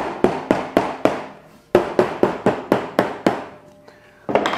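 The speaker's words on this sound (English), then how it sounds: "There's the rubber side of the hammer." Rubber face of a hammer tapping oak edge banding onto a plywood edge: about a dozen crisp, close knocks in an even rhythm, a short pause, then more taps, and a final knock at the end.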